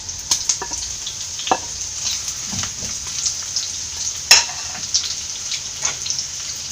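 Garlic sizzles steadily in hot oil in a pan while egg Hakka noodles are being prepared, with a few sharp utensil clicks and one louder clack standing out over the constant frying hiss.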